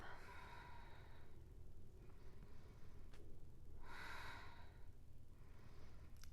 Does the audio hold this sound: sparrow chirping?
no